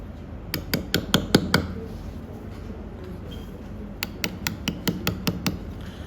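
Hammer striking a chisel to cut letters in stone, two runs of five or six sharp, evenly spaced metallic taps, close and clear, separated by a quiet pause.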